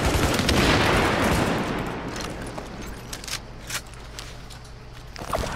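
Rapid bursts of Classic FAL rifle fire in The Division video game, a dense roar at first that thins into scattered, separate shots and clicks before a final loud burst.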